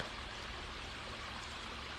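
Low, almost dried-up brook trickling in a steady, soft wash of water noise, continuous and fairly faint with no talk.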